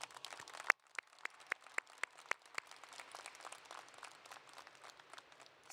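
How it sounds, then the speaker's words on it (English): Scattered applause at a high school graduation ceremony, honouring graduates' families and friends, heard as a thin and fairly distant patter of individual claps, some sharp and separate, over low room noise. "giving them a very loud round of applause."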